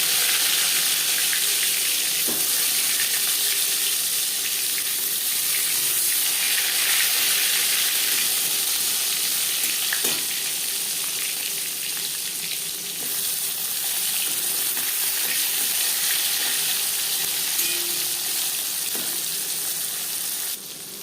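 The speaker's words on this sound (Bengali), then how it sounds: "সরষের তেল বেশ ভালো করে গরম হয়ে গেছে। দিয়ে দেব লবণ হলুদ মেখে রাখা বেগুন।" Salted, turmeric-rubbed brinjal slices fry in hot mustard oil, giving a loud, continuous close sizzle with hissing crackle throughout and an occasional faint clink.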